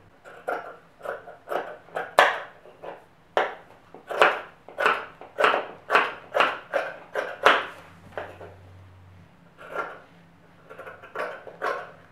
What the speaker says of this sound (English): I'm going to cut 2 facing this way, flip it over, and cut 2 facing this way.